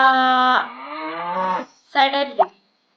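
A human voice imitates a cow mooing with a long, drawn-out, nasal moo, then a shorter two-part moo after a brief pause, loud and close.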